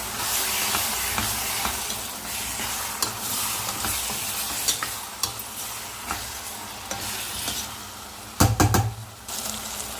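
Dried fish curry being stirred in a pan with chilli powder, a steady low sizzle under scraping spoon strokes throughout, with a cluster of sharper knocks near the end.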